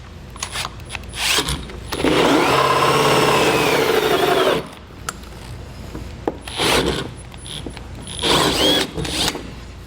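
Holes drilled for a front-mount trailer hitch receiver on a 2019 Chevrolet, heard as a loud, close drill grinding in a long burst near the start and shorter bursts later, with handling clatter in between.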